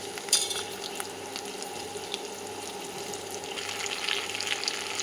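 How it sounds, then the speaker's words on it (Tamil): Onion and bitter gourd fry in a pan, giving a continuous close sizzle with occasional scraping from stirring throughout and no speech. "வெங்காயம் நல்லா வேகையும் பாவக்காயை போட்டுருங்க."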